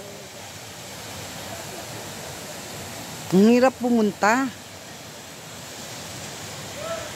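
Steady broadband rush of warm thermal spring water flowing at San Filippo falls near Siena, Italy, constant and fairly near, with a short stretch of speech partway through.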